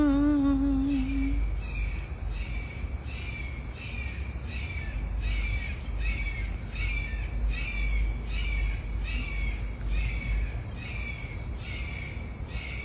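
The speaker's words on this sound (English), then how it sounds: "a screeching, howling bird, because that bird was howling" A bird calls with a brief howling cry at the start, then a steady, rhythmic series of high screeching chirps repeats over a low background hum, with no talk.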